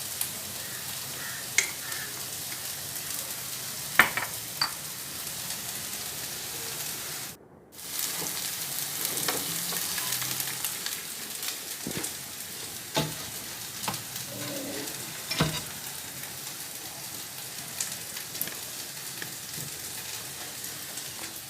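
Food sautés in a pan with a steady, soft sizzle and crackle throughout, broken by occasional clinks and scrapes of utensils and one brief silent gap.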